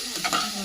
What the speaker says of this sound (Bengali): দেখুন একটু হালকা নেড়ে নিচ্ছি